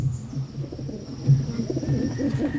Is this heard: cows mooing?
no